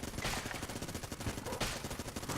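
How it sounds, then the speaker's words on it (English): Vulcan Cannon firing in the Enter the Gungeon video game, a rapid unbroken stream of loud mechanical gunshots in dense rhythm for a couple of seconds. "Vulcan Cannon."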